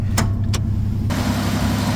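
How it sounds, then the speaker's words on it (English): A 3-litre V6 manual Mitsubishi Shogun Mk1 idles with an exhaust blow, a steady rumbling drone with two sharp ticks early on, and the hiss rises partway through as the sound continues without talk. "As you can hear, exhaust has a blow, definitely so."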